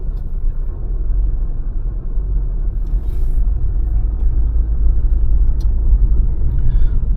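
A car pulls away on a quiet residential street on a Port Macquarie driving test route, its engine a low, steady rumble heard from inside the cabin that slowly builds, with no talk.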